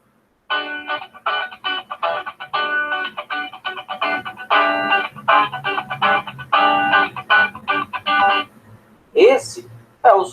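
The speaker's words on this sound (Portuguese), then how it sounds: "Esse é o som de guitarra." Bright electric guitar notes strummed and picked in a quick, steady rhythm for several seconds, followed by a brief voice at the end.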